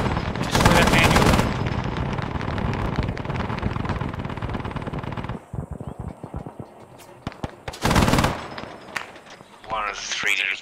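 Guns firing in the video game ARMA 3 SOG Prairie Fire, long loud bursts of heavy automatic fire, then scattered sharp single shots and another short burst, with voices talking over radio near the end.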